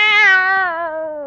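A cat gives a single loud, close meow, a drawn-out tonal cry that slides downward in pitch and fades over about a second, heard alone in a kitchen.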